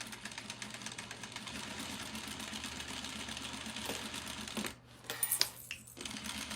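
Sewing machine back stitching an elastic waistband on a skirt, a steady rapid mechanical whir and needle clatter that stops near the end, followed by a few sharp clicks.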